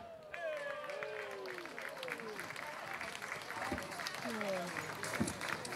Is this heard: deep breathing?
no